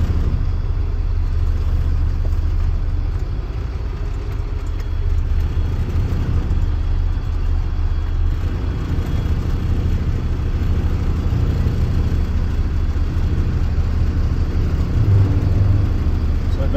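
A truck's diesel engine idles with a steady low rumble as the truck reverses during an in-cab inspection. It stays close and constant with no clear voices.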